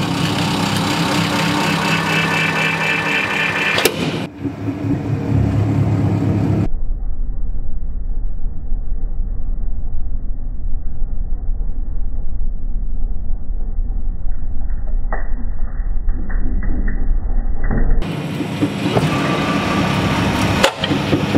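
A 200-ton hydraulic press crushes a stress ball, its engine droning steadily and loudly for most of the stretch before the sound cuts in and out near the start and end.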